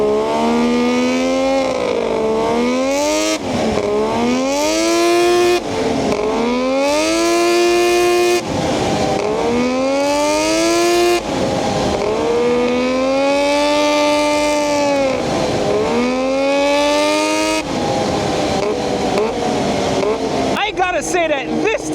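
A 140-horsepower sleeper ATV engine revs repeatedly, loud and close, climbing and falling in pitch in rhythmic cycles of sharp throttle blips over about twenty seconds.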